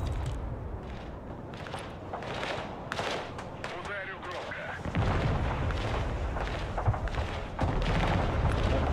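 TOS rocket launcher artillery firing in the war game Broken Arrow, a dense roar of booms and rumbling launches that grows louder partway through, with voices heard over the din.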